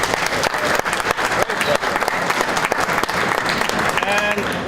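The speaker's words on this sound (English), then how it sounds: "I want a warm applause for Andrew." Loud, dense audience applause filling a conference room after a talk, continuous rapid clapping from many people with a brief whistle-like tone near the end.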